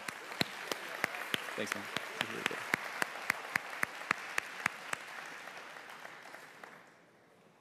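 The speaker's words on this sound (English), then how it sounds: "Can we give them a round of applause one more time?" Sharp, evenly spaced hand claps from a church congregation after music at an alumni weekend campus service. Fairly close, about twenty claps over a low murmur, with a brief spoken thanks before the clapping fades into quiet.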